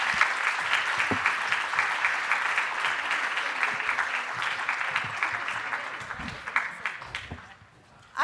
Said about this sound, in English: give them a much more rousing applause